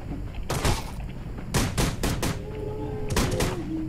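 Gunfire in Rules of Survival comes as loud, close shots: a single crack, a quick cluster of three or four rapid bursts, then another pair, over steady background game noise.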